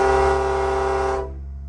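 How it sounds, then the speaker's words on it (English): A train horn mounted on a car blares in one loud, sustained chord for over a second, then cuts off sharply, leaving a low engine hum underneath on a late-night mountain highway. "Let me honk the train horn real quick."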